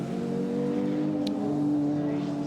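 Touring race cars speed down the back straight at Amaroo Park, a steady loud engine drone with strong harmonics and a slight rise in pitch across a few seconds.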